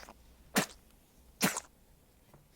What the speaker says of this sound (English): And when it spits.